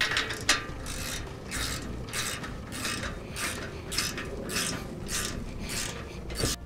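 A hand ratchet rapidly clicks in repeated bursts while tightening galvanized U-bolt bracket fasteners on a trailer frame, close and crisp with no talking.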